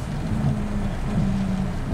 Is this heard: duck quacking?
no